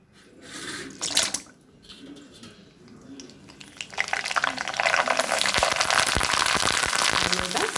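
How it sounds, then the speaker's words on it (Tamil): Dried homemade macaroni pasta vathal frying in hot oil, a steady dense crackling sizzle that builds and stays loud through the second half, with a few clatters of stirring early on. "சூப்பராக நம்ம பாஸ்தாவில் வத்தல் பொரிச்சிட்டோம்"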